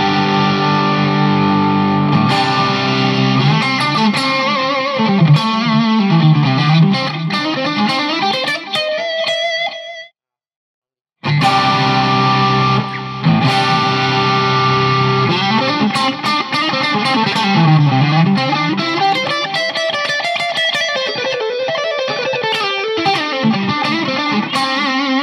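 Cort G260CS electric guitar played at full volume through distortion, loud sustained chords and melodic runs that cut out for about a second midway before resuming just as loud.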